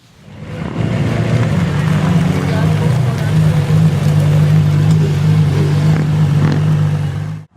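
A 2006 orange Lamborghini Gallardo engine running with a loud, steady low drone that holds and swells slightly before cutting off at the end, with a voice speaking over it.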